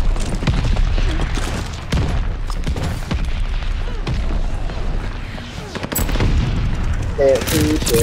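Rapid PPSh submachine gun bursts in the Call of Duty Vanguard video game, loud and dense, rattling over game explosions and effects with players talking throughout.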